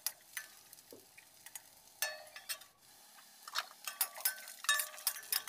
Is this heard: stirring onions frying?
yes